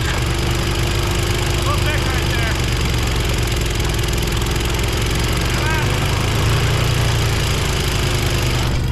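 A side-by-side UTV engine runs steadily at a lakeside track, a continuous droning motor with a lawn-mower-like tone throughout, with a voice speaking briefly over it.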